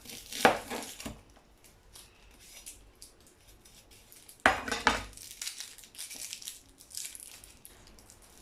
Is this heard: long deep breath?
no